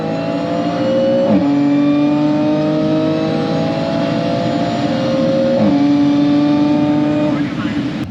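An Audi B8 S4 on a quarter-mile drag run accelerates hard and loudly, its engine tone climbing steadily through the gears with brief dips at each shift across the whole stretch.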